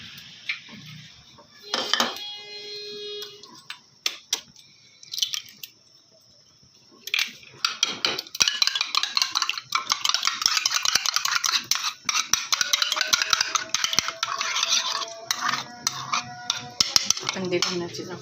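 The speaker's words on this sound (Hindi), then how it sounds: "अंडे को हमने अच्छे से फेंट लिया।" An egg beaten in a bowl for chicken soup: quick, rhythmic clinks of a utensil against the bowl, first in scattered taps, then a dense, steady run of whisking clatter, close and clear without speech.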